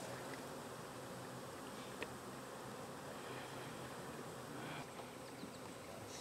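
A honeybee swarm hums in a steady, low, continuous drone, faint and even throughout with a few soft clicks, no voices over it.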